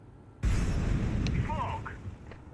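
A grenade and a molotov thrown in a competitive shooter game set off a sudden loud, rumbling burst that roars on for about two seconds, with a voice talking over it.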